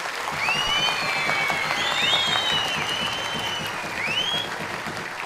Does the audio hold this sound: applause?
yes